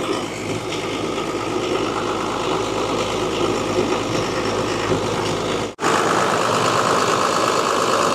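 A junk car's engine runs at a steady idle with its turbo spinning, a close, continuous droning hum that cuts out for an instant and then resumes at the same level.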